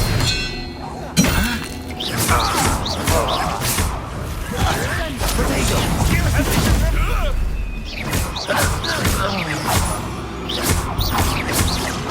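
Magical duel combat in Hogwarts Legacy, with the Expelliarmus spell landing amid dense whooshes, cracking impacts, thuds and shattering bursts in rapid succession, loud and busy throughout.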